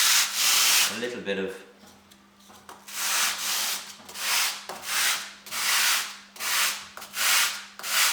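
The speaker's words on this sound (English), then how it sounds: "I'm moving to parts of the sandpaper that are not full of foam" Sandpaper scrubs rhythmically across a foam prototype shape in repeated rasping strokes, loud and close, with a brief spoken phrase near the start.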